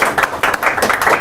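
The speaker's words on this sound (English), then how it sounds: "let's give Mark Roloff some applause for me" An indoor audience claps in a brief burst of dense, steady applause, close and fairly loud, with no talking over it.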